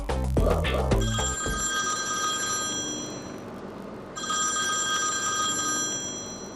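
A telephone rings with repeated electronic bell trills, a long ring broken by a short pause before ringing again, fairly loud and close, following a brief burst of music at the start.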